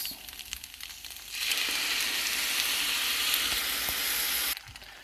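Spaghetti noodles with rice vinegar and vegetable seasonings sizzle loudly in a hot pan, a bright steady frying hiss that swells after a quieter stirring start and then cuts off abruptly near the end.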